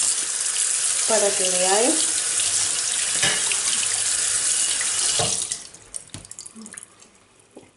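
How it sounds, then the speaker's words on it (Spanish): A kitchen tap runs steadily as dishes are rinsed in the sink, a loud close rush of water with brief Spanish speech over it, then the flow stops, leaving scattered clinks and light handling. "voy a ir enjuagando"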